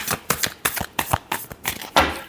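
A deck of tarot cards is shuffled up close in a quick series of about seven crisp riffling bursts, each a short flutter of snapping card edges.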